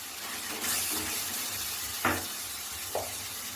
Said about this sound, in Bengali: এই কাজু বাটাটা আমি এর মধ্যে অ্যাড করে দিই